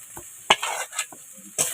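Ginger paste fries in oil with dried red chillies and bay leaf for a tiger prawn malai curry, with sharp spatula clacks and quick stirring bursts over a close sizzle.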